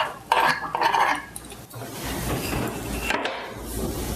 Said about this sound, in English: Just put them just like this into our pie pan.